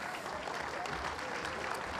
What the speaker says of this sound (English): Please, once again, a round of applause for the wonderful panel over here